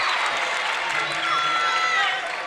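A big, noisy crowd fills the gym at a girls' basketball regional championship game, a steady roar of chatter and cheering with whistle-like squeaks, while a voice talks over it.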